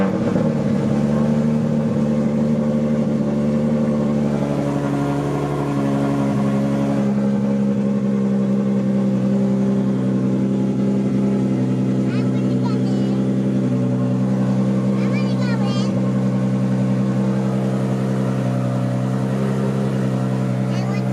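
A Nissan R32 Skyline GTR engine runs at a steady, loud idle for the whole stretch, deep and continuous, with voices talking over it.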